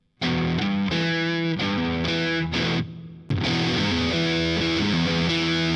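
Loud, heavily distorted electric guitar chords played through a distortion pedal ring out and sustain, with a brief dip in the middle before the crunchy playing resumes.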